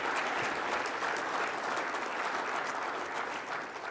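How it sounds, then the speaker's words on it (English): An audience at an afternoon forum session applauds awardees, a dense steady round of clapping from a large crowd that carries on without a break and fades slightly at the end. "let's give them a round of applause."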